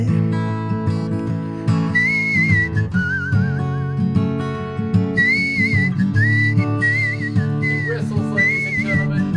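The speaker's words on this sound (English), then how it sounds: "Whistles, ladies and gentlemen." A person whistles a wandering melody above steady band accompaniment in a country-style song, the whistled line rising and falling in several clear phrases.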